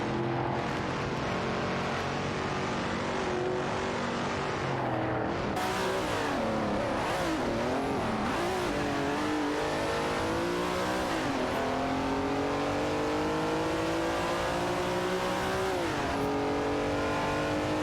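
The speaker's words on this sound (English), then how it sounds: "engaged in a close battle with Waziri's Guy in the Ferrari 275 GTBC for the 20th position." Ferrari 275 GTB/C race car engines in a racing video game, several cars revving loudly with engine pitch rising and falling through gear shifts, dense and continuous with overlapping engines throughout.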